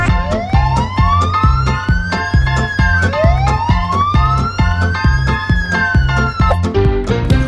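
A loud emergency siren sweeps up and down twice over a steady pounding drum beat, continuous and upfront with no talking.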